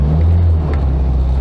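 A classic Mini engine revs loudly and steadily at close range, a deep low drone with slight rises in pitch, no voices.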